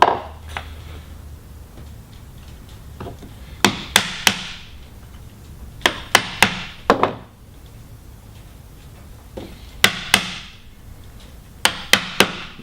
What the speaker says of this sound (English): Finish up chopping with the chisel.